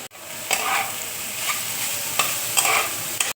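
Chopped carrot, garlic and capsicum sizzle steadily in a hot pan for breakfast, with a few sharper stirring scrapes standing out over the constant close frying hiss.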